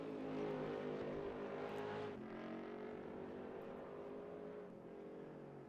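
Race car engine lapping a track in a Gran Turismo session at Portimão, a loud sustained harmonic engine drone with a gear change partway through, then steady revs fading slightly as the car runs on.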